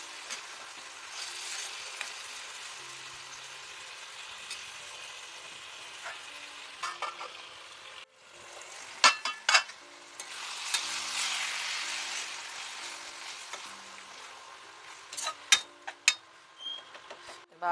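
Tomatoes stirred and frying in a pan for a flat bean and cucumber tomato curry, a steady soft sizzle with scraping and clinking from stirring, louder bursts midway, no talking.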